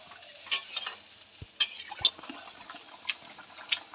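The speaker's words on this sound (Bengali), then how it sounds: "এই যে ঝোল ফুটে গেছে" A pan of fish curry gravy simmers on the stove, giving faint bubbling and scattered soft pops and clinks, quiet and intermittent with no one speaking.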